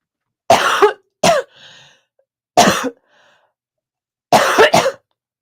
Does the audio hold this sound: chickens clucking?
no